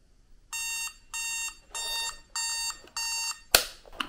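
A cheap $19.99 alarm clock sounds its alarm in five evenly spaced bursts of rapid electronic beeping with brief gaps between them, followed by a sharp click or knock at the end.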